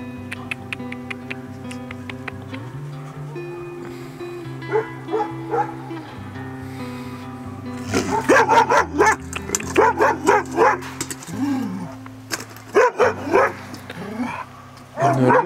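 Dogs at an animal shelter bark in repeated bursts, loud and close, with several yips overlapping in the second half, over a constant tonal hum in the background.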